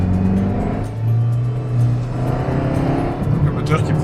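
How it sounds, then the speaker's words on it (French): A Peugeot 206 CC engine revs hard and steadily to about 6000 rpm, a loud continuous roar rising and falling in pitch over a few seconds, close by. "Le moteur qui prend 6000."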